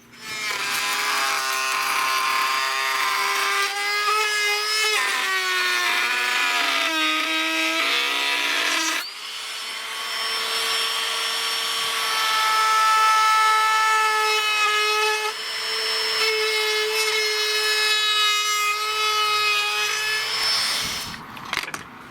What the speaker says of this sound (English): I got a Ryobi handhold battery router, and I'm just gonna put it here and go across here